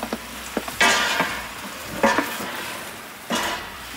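Mutton frying in a pot for white mutton pulao, a low steady sizzle with three distinct stirring scrapes of a spoon against the pot, no speech.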